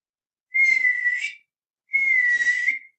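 A person whistles during a casual whistling lesson: two sustained, fairly loud whistled notes with a short gap between them. There is no talk, and the notes are clear and close.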